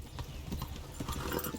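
Horse hooves gallop in the video game Kingdom Come: Deliverance, a quick run of rhythmic clip-clop beats, clear but fairly quiet, with nobody speaking over them.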